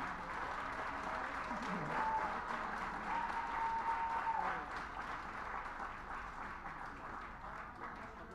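Audience applause at a speech event, a continuous wash of clapping heard at moderate distance that holds steady and gradually thins toward the end, with a faint voice beneath it.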